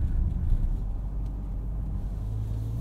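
A 2022 Hyundai Santa Fe Hybrid Limited on Continental CrossContact tires pushes through deep snow at night, a steady low rumble of engine and tires filling the cabin, with no talk.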